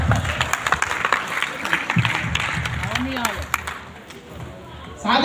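A crowd claps at a promotional gathering, a lively burst of applause mixed with voices and shouts that fades toward the end before a louder noise returns.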